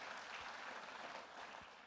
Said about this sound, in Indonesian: kita beri tepuk tangan buat Allah kita